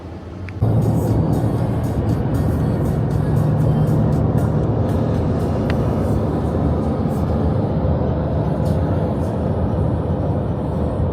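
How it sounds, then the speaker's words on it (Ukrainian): A rented Ford moving truck starts off and drives, its engine and road rumble loud and steady from inside the cab after a short quiet start. "Отримали ми вантажівочку, ось цей форт. Поїхали на ньому покатаємося."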